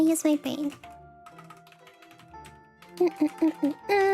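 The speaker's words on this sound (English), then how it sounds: "Typing ASMR." Computer keyboard typing clicks along under a person chatting and murmuring during a casual stream, with bursts of key taps at the start and end.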